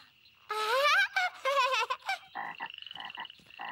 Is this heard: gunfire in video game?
no